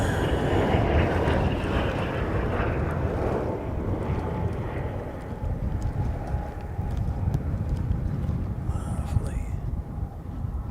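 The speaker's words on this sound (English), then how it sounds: "ATR coming in from Queenstown" ATR turboprop airliner arriving from Queenstown, a broad distant propeller and engine roar with wind buffeting that gradually fades, while people talk quietly nearby.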